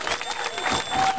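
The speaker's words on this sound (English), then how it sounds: "Please give her a big round of applause and your support." A crowd applauds at the opening of a federally funded public skatepark in Long Beach, California, steady clapping mixed with a few voices, fairly close and continuous for a short burst.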